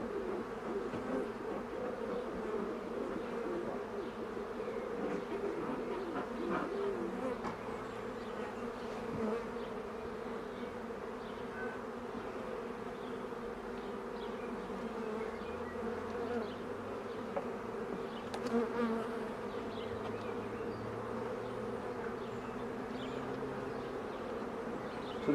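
Honeybees swarm and buzz steadily around an opened hive during an inspection with a smoker, a dense, continuous droning hum close by with no talk.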